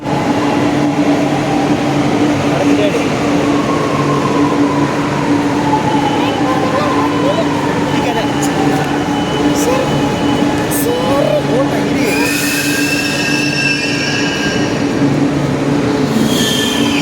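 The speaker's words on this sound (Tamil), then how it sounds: "Next train to Central Metro is arriving on." A metro train rolls into a Chennai station bound for Central Metro with a steady roar and high squealing wheels, while a station announcement voice speaks over the noise.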